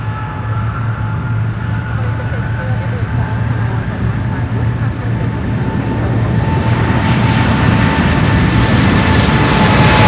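A heavy jet takes off from runway 17 left at Louisville International Airport, a steady loud roar of engines with a low hum that builds slightly toward the end, continuous throughout.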